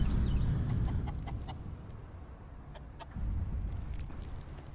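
Chicken clucks in a Gamers Club Alienware Liga Pro match between INTZ and Dai Dai, several short clucks in the first half under a steady low game rumble, fading then the rumble rising again near the end.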